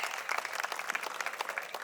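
An audience at a cultural programme claps for the parents, a burst of steady applause that stays fairly even through the clip, heard from within the crowd.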